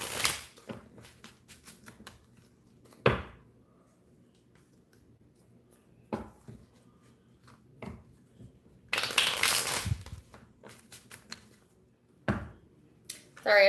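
New tarot cards are shuffled in repeated crisp riffling bursts separated by quiet pauses, close up, with a longer flurry of shuffling midway.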